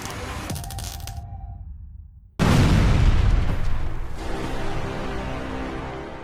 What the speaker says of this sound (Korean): 히터가 폭발했다. 굉음이 났고 불길이 붙는다.